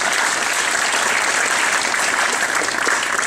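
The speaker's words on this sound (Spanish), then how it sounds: "le damos un fuerte aplauso al Señor" A church congregation claps during a Sunday morning service, a loud, even burst of many hands that fills the whole few seconds without a break.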